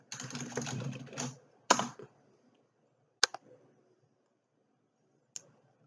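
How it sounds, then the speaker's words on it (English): Keys tap on a keyboard hooked up to an Android tablet, first as a quick cluster of clicks, then a few isolated sharp taps separated by quiet gaps, close and fairly soft. "I can write in search with the keyboard"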